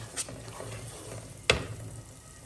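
Chicken masala sautéing over a medium flame, a soft steady sizzle with a few scraping stirs and one sharp clink of a spoon against the pot about halfway through.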